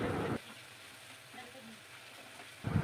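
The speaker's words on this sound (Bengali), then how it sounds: "একটু জল দিয়ে ভালো করে মশলাটা এখন কষাতে হবে" Spice paste frying in a pan with a splash of water, a soft steady sizzle between two louder bursts at the start and end as the liquid hits or is stirred.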